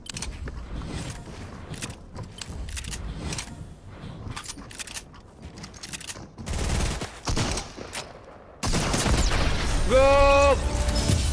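The Dragon's Breath shotgun in Fortnite fires in a quick series of blasts amid game mechanism clicks and clatter, followed by a longer burst and a rising tonal effect near the end.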